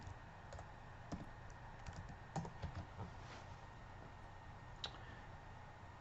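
Computer keyboard typing in a quiet room, a few scattered light key clicks at close range over a steady background hum, no voices.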